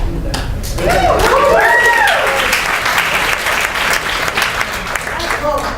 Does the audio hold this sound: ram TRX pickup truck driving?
no